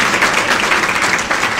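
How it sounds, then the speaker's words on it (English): Audience applause at an awards ceremony and memorial lecture, a dense, steady wash of clapping from a crowd filling the hall, moderately loud and continuous. "I like the applause."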